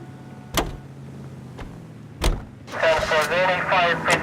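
In the video game L.A. Noire, car doors thud shut twice, followed by a vehicle engine starting and revving up loudly, with some muffled background ambience.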